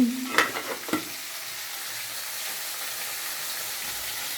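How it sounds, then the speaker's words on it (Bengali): Fish fries in a pan with a constant soft sizzle, opened by a few brief utensil clinks in the first second. "এই মাছটা ভেজে নিচ্ছি"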